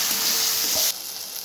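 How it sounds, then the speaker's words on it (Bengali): Ginger-garlic spice paste fries in a pan for a minced-meat ghugni, giving a close, steady sizzle that drops to a quieter hiss partway through, with no one talking. "আর মশলাটা ভাজা ভাজা হয়ে গেছে"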